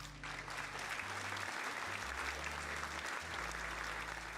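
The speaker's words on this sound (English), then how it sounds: "Yes, we're clapping." Steady, dense clapping fills the whole stretch, loud and continuous, with a low electronic hum running beneath it and no talking.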